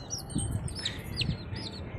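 Pet pigeons being handled make high, repeated chirping cheeps, several short squeaky calls close by over a soft rustling background.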